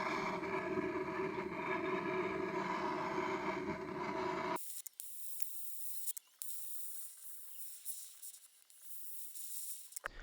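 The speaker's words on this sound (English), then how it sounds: "it's time to go ahead and hit it with some anti-splatter" Anti-spatter spray hissing from an aerosol can before MIG welding in a garage, a steady close hiss that cuts off abruptly midway, followed by a quieter, thinner spray hiss with a few brief clicks.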